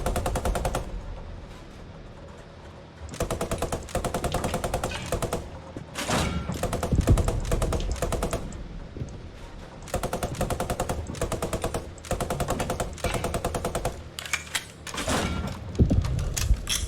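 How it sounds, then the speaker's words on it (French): Tank main gun and coaxial machine gun fire in the World War II video game Post Scriptum, with long bursts of rapid automatic shots and heavy booming high-explosive cannon rounds, loud and close, with no talk. "canon 11 heures, tire-moi de la HE là-dedans"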